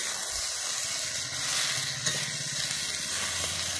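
Pasta tossed into a pan of sizzling Maggi masala, a steady close hiss of frying with faint stirring scrapes underneath, no voices.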